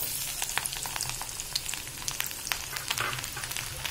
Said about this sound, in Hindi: और मैंने इसमें ये कटे हुए लहसुन डाल लिए।